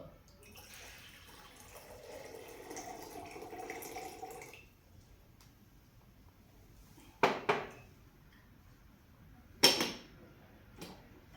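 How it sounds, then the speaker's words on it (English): Boiling water pours in a soft, steady stream for a few seconds, followed by silence and then two sharp clinks of a vessel being set down. "We'll add boiling water in it."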